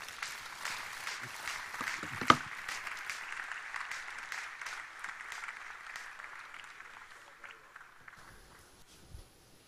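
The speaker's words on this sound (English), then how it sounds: "Keep clapping." Applause from a forum audience fills the room, a steady wash of many hands clapping that slowly thins and fades toward the end.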